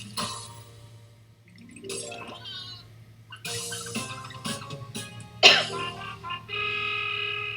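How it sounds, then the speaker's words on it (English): Coughing from a host during a Jackbox Party Pack game stream, a few rough bursts over a steady low hum, with a sharp louder cough near the middle and game sounds around it. "I apologize for the coughing."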